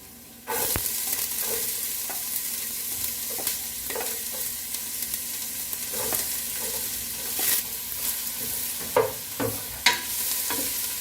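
Garlic and onion sautéing in a pan for pork menudo, a sudden burst of loud steady sizzling that carries on, punctuated by regular scrapes and taps of a spatula stirring.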